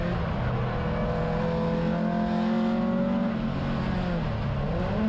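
Onboard a 1972 Datsun 510 race car at Sonoma, the engine drones loudly and steadily with rising and falling pitch through gear changes, close up and continuous, with no talk.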